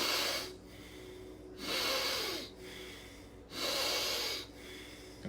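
A person does a deep breathing exercise, taking slow, loud breaths close to the microphone in a steady rhythm, with each long airy breath separated by a short pause, about three full breaths in all.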